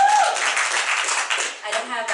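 Brief burst of audience clapping and cheering at a stand-up comedy show, a dense wash of hands for about two seconds with some voices mixed in.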